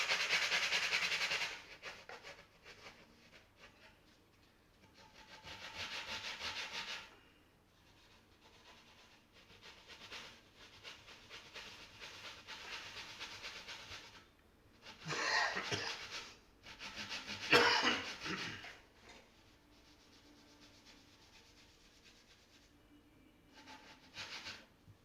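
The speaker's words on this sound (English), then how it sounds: "cleaning up nice, the frets" Scraping and cleaning the frets of a bowlback mandolin with a hand tool, a close, dry rubbing rasp repeated in bursts over 25 seconds, with a few louder strokes near the end and no talk.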